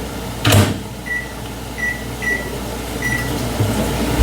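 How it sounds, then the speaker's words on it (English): A microwave oven runs with a steady low hum in a home kitchen while heating food, with a thud near the start and several short beeps spaced through the middle. "put this in the microwave for 5 minutes"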